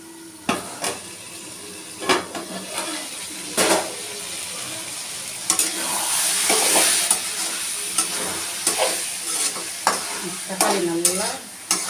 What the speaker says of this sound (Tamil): ஒரு 2 நிமிஷம் வதங்கட்டும்.